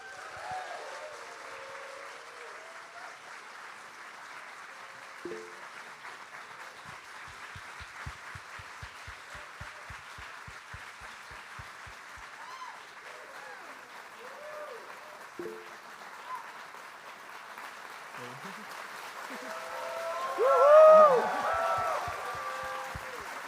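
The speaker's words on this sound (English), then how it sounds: "please welcome with a big round of applause" An audience applauds a speaker being welcomed onto a conference stage. The clapping is faint and distant and stays steady for a long stretch, then briefly swells with voices near the end.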